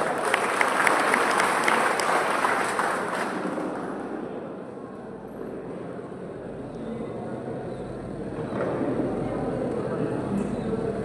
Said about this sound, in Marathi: त्यांच्यासाठी एकदा जोरदार टाळ्या झाल्या पाहिजे